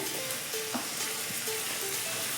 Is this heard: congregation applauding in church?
no